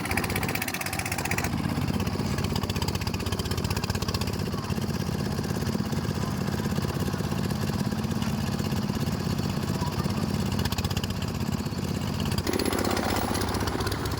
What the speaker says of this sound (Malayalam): ജനറേറ്ററിന് നല്ല സൗണ്ട് ഉണ്ട് കേട്ടോ